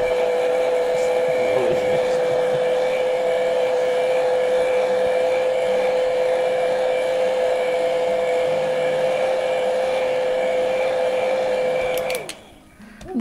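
A hair dryer blows steadily and close, drying paint on a painted board, its steady whine holding for about twelve seconds before it shuts off.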